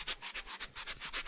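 Quick, steady back-and-forth scrubbing of sandpaper by hand on MDF, about eight strokes, close but soft, with no voices.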